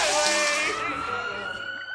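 An ambulance siren sound effect wails loud and close, its pitch sweeping, and fades out over about two seconds.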